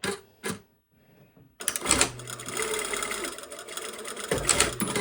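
A sewing machine stitches a facing to a bodice, first with two quick short bursts and then one long, continuous run of close, even whirring.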